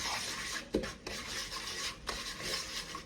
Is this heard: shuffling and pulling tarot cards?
no